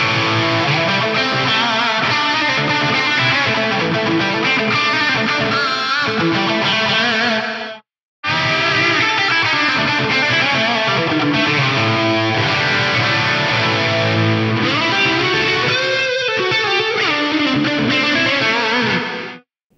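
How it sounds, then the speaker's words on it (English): Distorted electric guitar through a Megatap delay set very wet, its repeats building into dense gated reverb tails that cut off abruptly, with a brief full stop near the middle before the loud playing resumes. "You can also play around with the delay time, basically to change the amount of reverb before it gets gated off."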